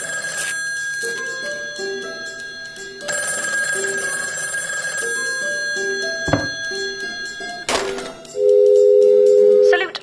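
Telephone rings in the Taskmaster VR video game, a repeated electronic bell pattern with tonal bursts over game music and effects, loud and close with a few thuds between.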